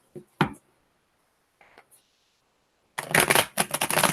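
Tarot cards are shuffled by hand: a couple of quick riffles at the start, a brief soft flick, then a loud, dense burst of shuffling near and close to the microphone.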